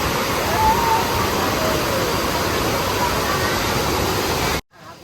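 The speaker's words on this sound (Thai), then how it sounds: "เป็นทางน้ำตกเล็กๆนะคะ ไม่ได้กว้างมาก" Continuous loud rush of a small, narrow waterfall in Prachin Buri, Thailand, a steady wash of falling water close by that cuts off abruptly near the end.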